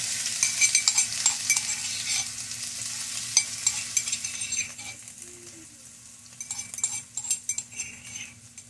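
Crushed ginger and garlic sizzle in coconut oil with a bright, hissing fry. Faint utensil clinks and stirring scrapes sound close by under a low steady hum, and the sizzle dips midway before picking up again.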